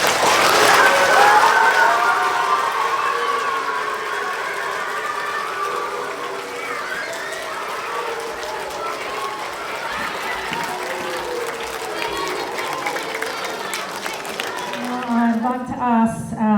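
A school crowd at a World Teachers' Day assembly applauds the teachers, the clapping strong at first and then settling into a steady lighter patter, with voices rising over it near the end.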